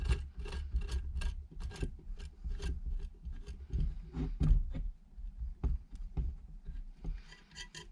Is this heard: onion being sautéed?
no